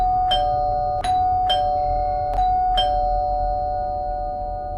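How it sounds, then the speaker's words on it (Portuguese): A doorbell chimes five times in a row, ringing out clearly at uneven intervals over a low steady hum. "Então a campainha toca, toca e toca,"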